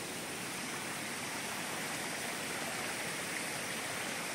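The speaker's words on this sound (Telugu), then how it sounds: "దారి పొడవునా అనేక చోట్ల కొండలలో నుంచి ప్రవహిస్తున్నటువంటి సెలయేటి గలగలలు." Mountain streams flow down from the hills beside a quiet forest path, making a steady, unbroken rushing babble that fills the whole stretch at an even level.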